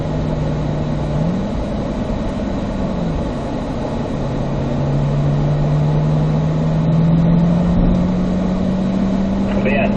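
A car cruising a cool-down lap on the Spring Mountain North Course, a steady loud engine drone with slowly shifting pitch and a gear change, while someone talks over it.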